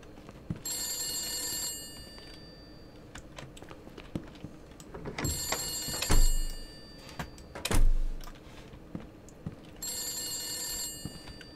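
An office telephone bell rings in three separate bursts of shrill electronic ringing, with keyboard clicks and a couple of dull thumps in the gaps between the rings.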